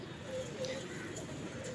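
Tazia pigeons coo softly in a low, steady murmur under a faint background hum, with a voice speaking quietly nearby.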